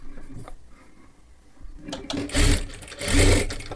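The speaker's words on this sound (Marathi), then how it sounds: "हे अशा पद्धतीने घडी करून घ्यायची आहे आणि डबल शिलाई मारून घ्या." A sewing machine double-stitches a folded sleeve tassel in two loud close bursts of rapid whirring after a quiet stretch of faint handling.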